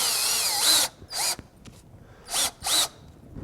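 Power drill driving toe screws through the top of log siding into framing during a log wall installation, four short whirring bursts with brief pauses between, close and loud.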